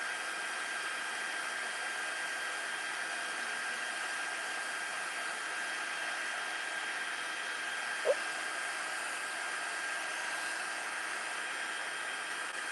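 Heat tool blowing hot air to melt gold embossing powder in a multi-color embossing setup: a steady, broad rushing whoosh close by that runs without a break, with one brief click partway through.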